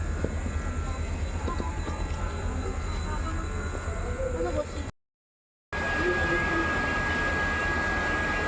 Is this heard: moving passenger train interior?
yes